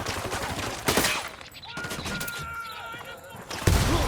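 Gunfire in the video game Tom Clancy's Ghost Recon Wildlands, a few loud bursts of shots separated by quieter stretches of game ambience.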